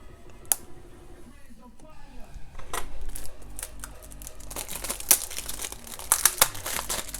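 Amazon shipping package holding a Blu-ray steelbook being torn open, with loud crinkling and ripping of packaging in bursts and sharp crackles, close up and fairly loud, with brief talk in between.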